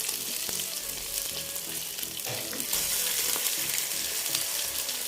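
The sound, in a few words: food frying in a pan after turning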